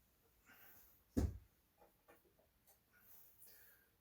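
A pencil marks drill hole spots on a wall for a Samsung Q60R QLED TV mount, giving faint scratchy strokes and one louder knock, quiet and close.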